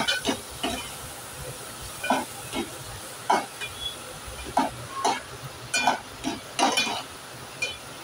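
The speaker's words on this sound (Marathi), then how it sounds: "आता हे परतवूया आणि वाटण कांदा टोमॅटो सोबत शिजवून घेऊया।" Ground spice paste with onion and tomato being sautéed and stirred in a pan, a soft sizzle underneath with repeated scraping strokes of a spoon at an uneven rhythm, close and moderately loud.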